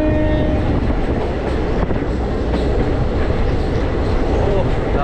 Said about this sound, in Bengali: ট্রেন একদম দুরন্ত গতিতে চলছে